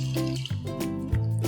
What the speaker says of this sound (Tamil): தண்ணி ஒரு 4 டம்ளர் சேர்த்துட்டேன்